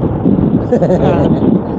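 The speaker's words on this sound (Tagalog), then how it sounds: "ganito kalakas ang hangin" Strong wind roars steadily across the microphone during a scenic motorcycle ride on the Bataan Loop, a loud, continuous buffeting rumble with no break.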